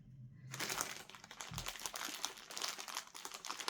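A package of cross-stitch canvases is opened, with continuous close crinkling and rustling of plastic wrapping, dense irregular crackles throughout with no talking.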